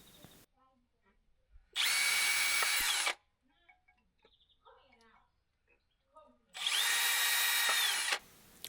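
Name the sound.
drilling holes with 4mm drill bit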